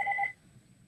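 A telephone rings in three quick, bright electronic beeps that stop abruptly, leaving a quiet room.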